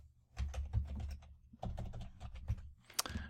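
Quick bursts of keystrokes on a computer keyboard as a project name is entered, two close clusters of clicking separated by a short pause, ending with a sharper key press.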